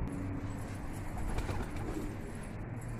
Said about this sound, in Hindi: अब देख लो कबूतर इसको पी रहे हैं